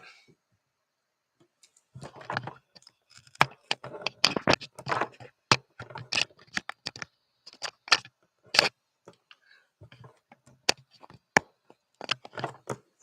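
Tarot cards are shuffled by hand in a run of crisp, irregular riffling snaps and flicks, close and dry, with short pauses between bursts.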